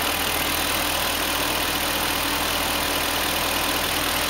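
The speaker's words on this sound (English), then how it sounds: "You hear the engine. Super quiet." A BMW E38 engine idles after new Bosch Platinum 4 spark plugs were installed. It gives a steady, smooth, close-up hum with a constant drone, and there is no talking.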